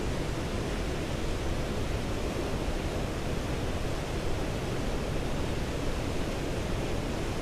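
A steady, dense roar of falling water at White River Falls, broadband and unbroken like close-up rushing whitewater, filling the scene with no voices and little variation in level.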